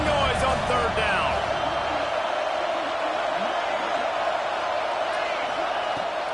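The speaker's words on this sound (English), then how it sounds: "This dog crowd is off the leash, and they are coming after them, bringing noise on third down." A college football stadium crowd at a Georgia versus Penn State game roars on third down. The dense, loud, steady wall of noise runs throughout, with a commentator talking over it.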